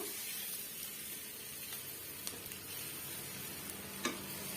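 Egg fry being gently stirred and sautéed in a pan, a faint, steady hissing sizzle with a few soft spatula taps.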